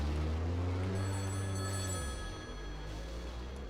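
An old-style telephone bell rings inside The Backrooms video game, a steady close electronic trill held for about two seconds over a low droning rumble that keeps going after the ring stops.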